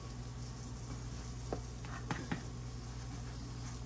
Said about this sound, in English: Just keep it stirred. Never cook into it. Just keep the heat low and keep on cooking it.